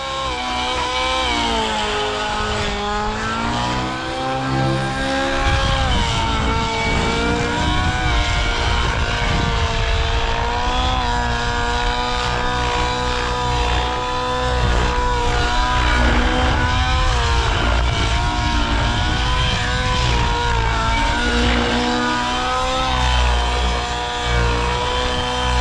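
The nitro engine of an SAB Goblin Raw 700 helicopter runs leaned out after break-in, a loud, continuous high-revving buzz with a wavering pitch that holds steady alone.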